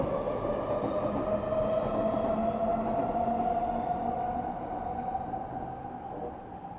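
A train rumbles past with a steady, loud roar and a droning hum, easing off slightly toward the end.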